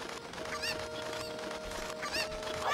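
Cucco chickens in the video game The Legend of Zelda: Ocarina of Time give repeated clucks and squawks in a village, several short bird calls over a steady background tone with no talking.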